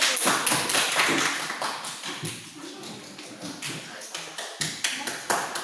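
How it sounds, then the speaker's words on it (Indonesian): A classroom group gives a round of applause, a steady patter of many hands clapping fairly close, running throughout with some uneven, louder claps toward the end. "Tolong berikan aplaus untuk kelompok 1."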